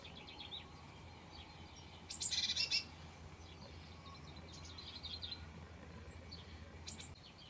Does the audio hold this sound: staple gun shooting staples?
no